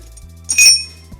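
Metal bolts clinking as they are placed while fitting an Audi transmission mount, a short bright ringing clink of about half a second standing out over a steady low hum.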